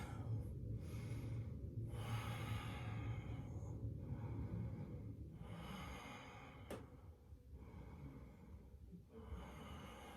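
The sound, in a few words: deep breathing during a yoga pose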